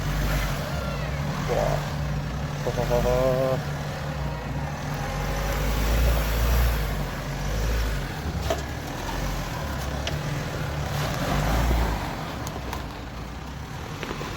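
A Ford Ranger or Mitsubishi Triton crawls up a steep off-road trail with a lifted setup, its engine droning and straining near the microphone under wind noise, while people exclaim in the background.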